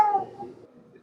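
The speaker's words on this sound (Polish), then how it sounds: "O, jaki kot" A cat meows once, close and fairly loud, aboard the warship HMS Belfast, its tonal call fading over about a second.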